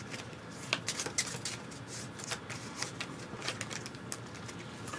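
A deck of cards is shuffled during a Terraforming Mars Ares Expedition board game session, a run of quick soft riffling clicks and taps, fairly quiet and close.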